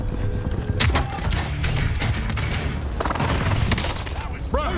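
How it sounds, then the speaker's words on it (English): Precision airstrike explosions go off in a shooter video game as repeated booming blasts and rumbles over dense gunfire and battle noise, with brief impacts throughout. "Enemy precision airstrike."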